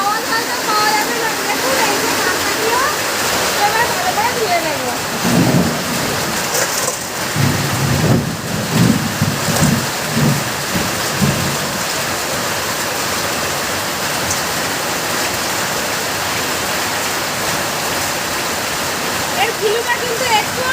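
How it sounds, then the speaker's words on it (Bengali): Heavy rain pours down in a steady, dense rush that stays loud throughout, with a few low rumbling thumps in the middle. "বৃষ্টিটা হচ্ছে কিন্তু"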